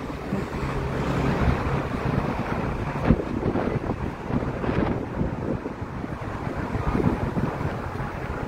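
Wind blowing outdoors on Broad Street near the Kimmel Center, a loud continuous rushing and buffeting against the microphone with gusty swells and no pauses.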